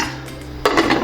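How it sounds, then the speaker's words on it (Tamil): A metal pressure cooker lid is set down and closed over a pot of mutton intestine, giving a brief clattering clank of metal on metal with a short rattle after it. "இப்போ மூடிடலாங்க."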